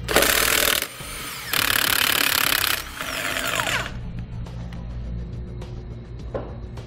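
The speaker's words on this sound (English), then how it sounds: "We'll take off the 8 lug nuts using a 13/16-inch socket." An impact wrench spins trailer lug nuts off with a 13/16-inch socket, giving loud buzzing bursts separated by short pauses, followed by lower mechanical rattling and clinking close by, with no voices.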